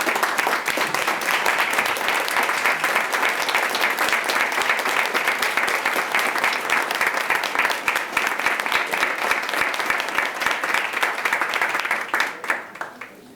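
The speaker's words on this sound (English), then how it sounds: "I'd like everyone to join me in giving them a round of applause." A school board meeting audience gives a sustained round of applause, an even, continuous roar of many hands clapping for about twelve seconds before it tapers off.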